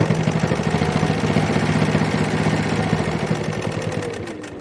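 Making reusable face wipes, a sewing machine stitches fabric in a continuous, rapid, pulsing mechanical drone. It runs loud and close without pause and eases slightly toward the end, with no voice.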